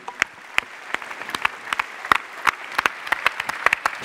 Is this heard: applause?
yes